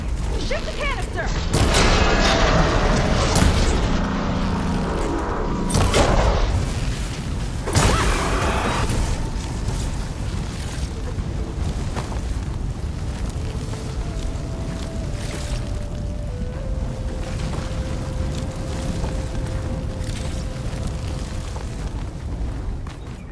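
A shot canister bursts in Horizon Forbidden West's Burning Shores, loud booming blasts and rumbling debris in the opening seconds, then a long churning low roar with mechanical tones and faint tonal hums settling in.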